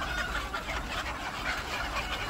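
Chickens in a controlled poultry shed cluck and chatter while workers hold them two at a time for drop vaccination. The flock makes a dense, continuous, moderately loud din throughout.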